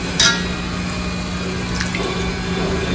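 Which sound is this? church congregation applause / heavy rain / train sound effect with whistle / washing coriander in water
washing coriander in water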